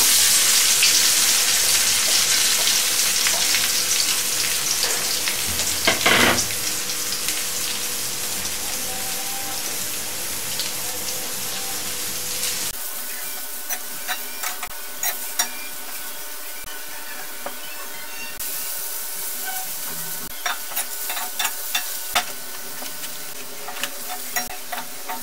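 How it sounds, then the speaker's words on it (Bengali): Onions frying in hot oil in a pan, a dense crackling sizzle like rain that settles into a quieter, finer crackle with scattered pops and an occasional stirring clatter, close by and without speech. "আমি একটা পাত্রে তেল গরম দিয়ে তার মধ্যে কতগুলা পেঁয়াজ ভাজবো"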